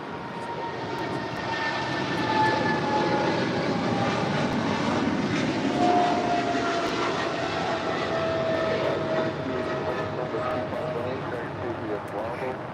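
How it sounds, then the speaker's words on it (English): A Polar Air Cargo Boeing 777 freighter departs LAX with a steady, loud jet roar that swells and holds throughout, thin engine whines running through it and voices faintly present underneath. "That is Polar Air Cargo Flight 962 departing to Cincinnati on a 777 freighter."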